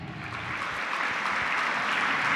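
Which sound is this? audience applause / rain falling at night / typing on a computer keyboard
audience applause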